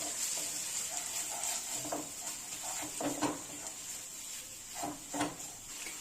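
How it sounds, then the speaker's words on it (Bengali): Ground cumin and coriander with a pinch of sugar frying in a pan, scraped and stirred with a utensil in a run of irregular close clinks and scrapes over a steady soft sizzle. "সব মশলাগুলো কিন্তু এবার সুন্দরভাবে একসঙ্গে কষিয়ে নেব।"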